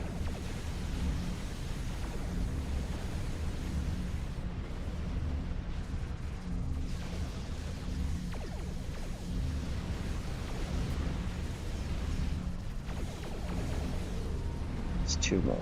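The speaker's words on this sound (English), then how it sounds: "Look at my missiles go." Missiles launch and detonate in Star Trek Starfleet Command, a dense continuous roar of rumbling space-combat explosions filling the whole stretch, with a player talking over it.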